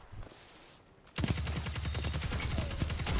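Auto rifle fire in the video game Destiny 2 breaks out abruptly as a loud, rapid, steady stream of shots that runs to the end after a quiet opening.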